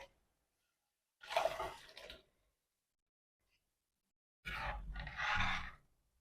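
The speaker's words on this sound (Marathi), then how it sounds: "आता शिजवून घेतलेले संपूर्ण छोले पाण्यासहित यामध्ये घालूयात" Cooked whole chickpeas and their cooking water poured into a spiced curry gravy in a Maharashtrian kitchen, heard as two separate close splashing pours with a quiet pause between them.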